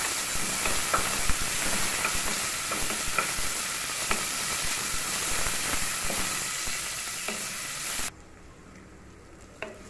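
Onions sauté with a little salt in a pan, giving a steady loud sizzle with faint stirring scrapes. The sizzle stops abruptly near the end and gives way to quiet.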